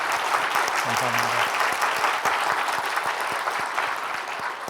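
Audience clapping loudly and steadily at a church university freshman retreat, a dense, sustained round of applause filling the hall while someone briefly speaks over it.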